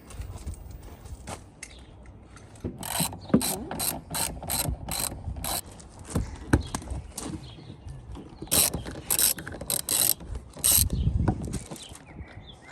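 A hand ratchet clicks in quick bursts of rapid pawl ticks while removing bolts on a Land Rover Defender camper, close and clear with short pauses between bursts.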